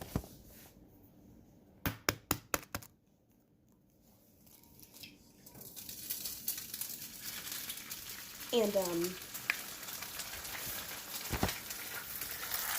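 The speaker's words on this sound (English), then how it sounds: "You're gonna want to turn it down if it's sizzling this much." An egg fries in butter in a hot pan, with a few sharp cracks and taps first, then a rising, steady sizzle that fills the rest of the clip, with brief scraping in between.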